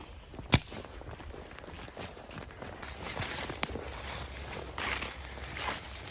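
Quiet footsteps on the walk out to a boat on the Mississippi River during a duck hunt, soft irregular steps with a few sharper knocks and thuds in open air.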